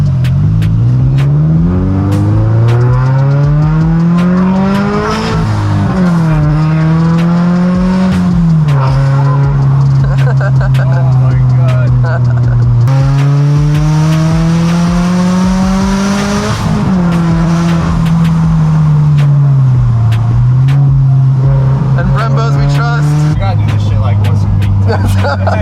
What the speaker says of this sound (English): Andrew's turn to drive the Turbo BRZ.